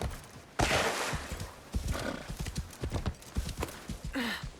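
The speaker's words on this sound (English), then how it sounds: "You can use the horse to get there a little bit faster." A horse gallops at speed in Assassin's Creed Shadows, its rapid clip-clopping hoofbeats loud and continuous, with a short neigh near the end.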